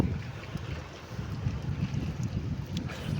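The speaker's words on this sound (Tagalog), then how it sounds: "Humina-hina na ng kaunti ang hangin." Wind blows steadily across open sea, a constant low rumble with soft gusty surges and faint lapping underneath.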